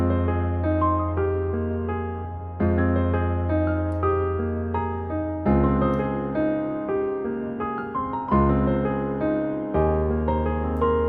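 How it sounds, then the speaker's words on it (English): A piano melody played in FL Studio, a top line layered over the original piano part, with sustained chords changing every few seconds under bright repeating notes, loud and clear with no talking. "So this top melody in context with the original piano sounds something like this."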